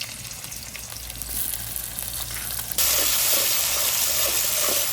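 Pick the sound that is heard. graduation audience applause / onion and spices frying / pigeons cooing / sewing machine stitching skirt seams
onion and spices frying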